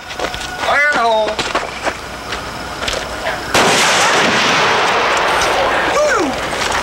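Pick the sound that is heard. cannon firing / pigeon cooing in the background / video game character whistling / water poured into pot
cannon firing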